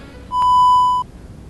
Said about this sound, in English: please leave your name and number after the beep.